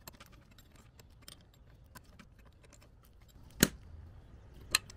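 An open-end 8 mm wrench tightens bolts on an ARB air compressor bracket: faint scraping and light ticks, then two sharp metallic clinks, fairly quiet and close.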